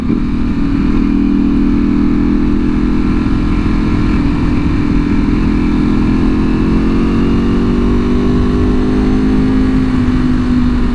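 A Ducati V4R motorcycle engine runs with a steady, loud, close-up drone, holding a smooth constant note with only a slight rise in pitch toward the end.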